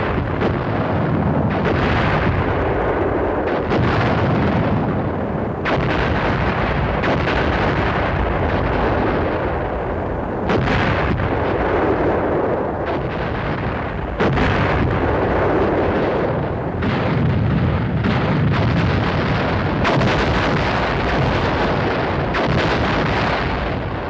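Artillery guns fire in a large-scale military barrage, a continuous loud rumbling roar of overlapping booms and blasts that swells and breaks in repeated heavy surges.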